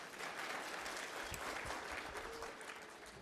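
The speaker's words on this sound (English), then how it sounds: "Another round of applause for him" Audience applause for a speaker at a programme launch event in a room, a dense, steady wash of clapping from a crowd that continues throughout the clip.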